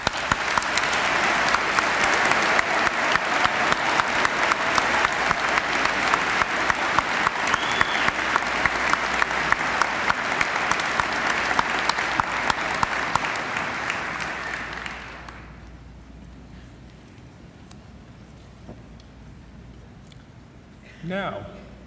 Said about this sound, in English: Today is your day, and we all applaud you, class of 2016.